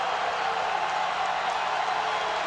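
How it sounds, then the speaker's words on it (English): College football stadium crowd at a Central Connecticut State vs Georgia Southern game, a loud steady roar of many voices with faint cheering and whistling throughout. "Crowd getting loud."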